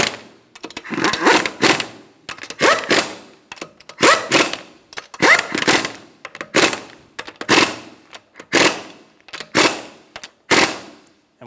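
Lug nuts are snugged down on an Infiniti G35 front wheel in about ten short, rapid, rattling mechanical bursts, close and fairly loud, separated by brief gaps.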